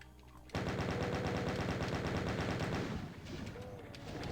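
Rapid automatic gunfire from Doom chaingunners and hitscan enemies erupts after a brief quiet start, a dense continuous rattle of shots that eases slightly near the end as scattered game sounds continue.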